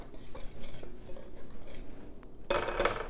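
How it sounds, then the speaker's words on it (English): A whisk stirs a herb mixture in a bowl while herb and spinach bread is being made, giving soft, quiet scraping and light clinks against the bowl, with a brighter, louder flurry near the end. "we'll just whisk this together"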